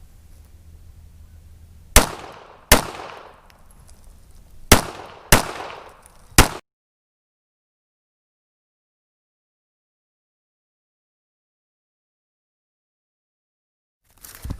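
Five sharp gunshots at a 20-yard shooting range, spaced about a second apart with short ringing decays, then long silence before a sixth shot at the very end.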